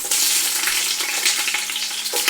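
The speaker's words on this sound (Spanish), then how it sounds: "Ahora le vamos a poner la cebolla." Chopped onion hits hot oil in a pot for red pork pozole, a loud, even sizzle with a busy crackle that holds for a couple of seconds, close by and with no voices.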